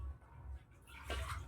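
Water poured and splashing during a Saraswati puja ritual, a short burst of gushing and spattering that rises toward the end over low background rumble.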